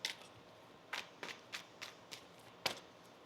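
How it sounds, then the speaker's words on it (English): Tarot cards shuffled by hand during a reading, heard as six or seven soft, crisp riffling bursts spaced roughly half a second apart, close and quiet, with no talk. "One more shuffle."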